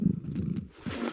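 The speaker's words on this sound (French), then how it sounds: "Petit félin, petit chaton." A kitten purrs in the video game Fortnite, a soft low rumbling purr that runs steadily through the short moment at close range, with no talking over it.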